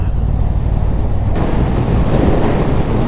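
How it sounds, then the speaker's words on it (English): Loud, steady wind roar buffeting the rider on a Triumph Bonneville T120 Black at about 70 mph on a dual carriageway, a constant broadband rush with no pauses, growing slightly denser partway through. "a lot of wind blast"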